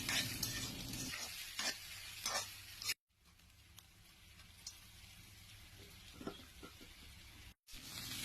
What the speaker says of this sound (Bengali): এই করলাগুলোকে বেশি করে পেঁয়াজ দিয়ে ভেজে নেবে